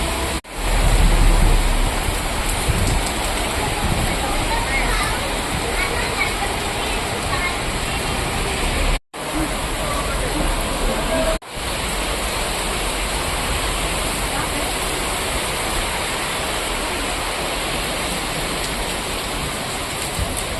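Heavy rain over Manchar town roars as a dense, continuous wash of noise, loud and close, with two brief dropouts along the way.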